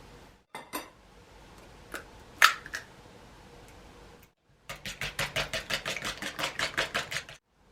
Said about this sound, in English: First, beat the egg.